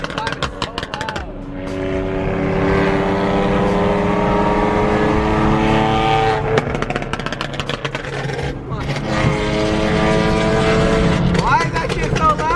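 Loud supercar engine at a millionaire car meet with Lamborghinis, BMW M3 and LaFerrari present, a sustained roaring drone rising and falling in pitch through most of the stretch, with people talking and cheering nearby.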